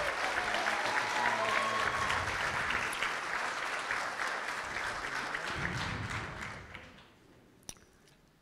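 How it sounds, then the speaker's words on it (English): Audience at the Miss Samoa Pageant 2021 gives a round of applause for the contestants. The clapping is full and lively, then thins and fades toward silence near the end. "Another round of applause for the beautiful ladies."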